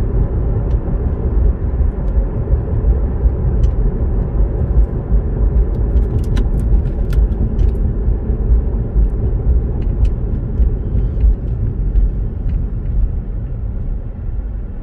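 A car driving on Shepherd Avenue at 60 km/h, heard from inside as a steady low engine and road rumble with faint ticks and clicks, constant and fairly loud throughout, no voices.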